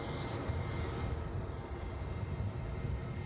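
A London City arrival airliner taxis after landing at Edinburgh airport, its engines a steady low rumble with a broad hiss that holds level throughout at moderate distance, with no talk.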